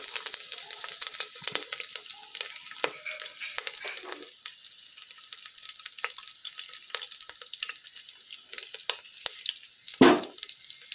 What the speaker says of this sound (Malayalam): കടുക് പൊട്ടി വന്നിട്ടുണ്ട്. ഇതിലേക്ക് കുറച്ച് തേങ്ങാക്കൊത്ത് ഇട്ട് കൊടുക്കുന്നുണ്ട്.